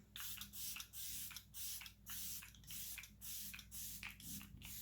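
Makeup setting spray misted from a pump bottle close by, about a dozen short hissing spritzes in quick uneven bursts over a faint steady background.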